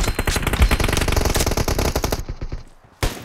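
Rapid automatic gunfire in the mobile game PUBG Mobile, a dense loud burst of shots lasting about two seconds, then a brief lull before one more sharp shot.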